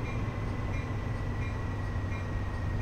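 F40PH-2CAT diesel locomotive on a commuter run in Train Sim World 2020, with a steady low engine drone and rolling rumble holding at constant loudness throughout.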